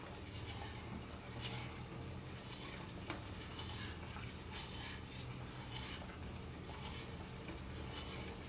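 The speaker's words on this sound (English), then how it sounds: "Now I'm gonna just keep on stirring this up, letting it do its thing till it reduces" A spoon stirs a peach bourbon sauce with cloves and soy as it reduces in a pan, a steady quiet scraping and soft bubbling sizzle that continues without pause under faint room noise.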